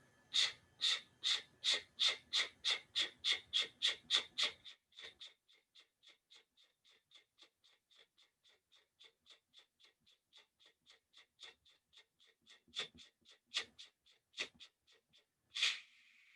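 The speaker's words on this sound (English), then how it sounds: "So ch sound, breath of fire with the sound" Rapid, forceful breath-of-fire exhalations with a "ch" sound, close and loud, pump out in a fast steady series, then continue as a long run of softer, quicker puffs before a few strong bursts return near the end.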